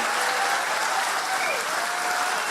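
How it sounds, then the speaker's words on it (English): A studio audience at a comedy show gives a guest a dense, steady round of applause, loud and sustained throughout with no pause. "Will you please give a massive round of applause to my guest, Virginia Ironside, ladies and gentlemen?"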